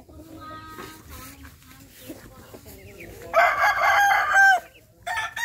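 A bulik stag gamecock of Kelso and White Thompson bloodlines gives a single loud crow near the mic, rising and then trailing off, over low background farmyard noise.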